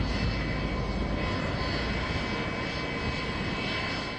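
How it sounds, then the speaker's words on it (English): Engines of a C-17 Globemaster, a large US military cargo plane, roar in a loud, constant, broadband drone with a steady whine on top, close and unbroken throughout with no talk. "C-17 Globemaster is one of the larger cargo planes used by the United States military."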